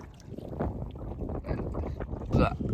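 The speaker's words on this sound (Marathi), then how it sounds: "आपली होडी" A boat moves across open water with a steady low rumble and wash, buffeted by gusty wind noise throughout.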